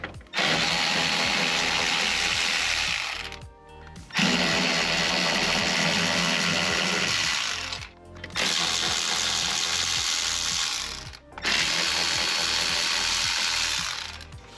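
A ratchet spins subframe bolts loose on an Audi B8-chassis car, four long, loud, close bursts of rapid clicking separated by brief pauses, with no talking.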